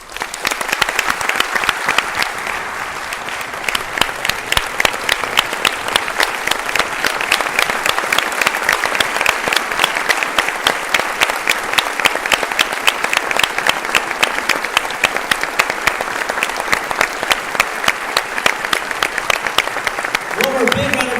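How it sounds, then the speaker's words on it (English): A large audience at Epcot gives dense, sustained applause with continuous clapping that stays loud and steady throughout and fades right at the end. "One more big round of applause for Marty Sklar"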